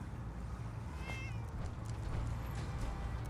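A cat meows in the video game Fallout 4, one short wavering mew standing out over a steady low background hum of game ambience.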